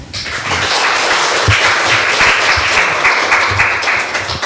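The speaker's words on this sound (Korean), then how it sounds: "뜨거운 격려의 박수 부탁드리겠습니다" A church congregation claps warmly for a youth-group scholarship recipient, a dense, steady wash of many hands that holds evenly throughout with a few heavier thumps mixed in.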